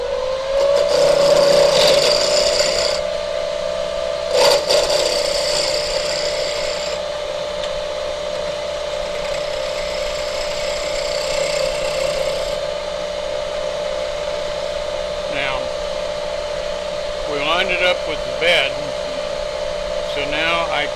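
A wood lathe turns a Christmas ornament while a tool makes a bevel cut against the tool rest, giving a steady whine with scraping bursts at intervals and a voice talking faintly in places.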